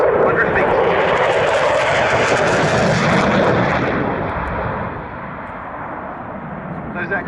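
A military jet makes a high-speed low pass at an airshow, a loud broad roar that fades toward the end, while a voice commentates over it.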